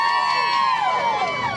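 A crowd cheers and shouts loudly at a country music appearance, a dense sustained roar of voices with whoops rising over it, steady across the moment.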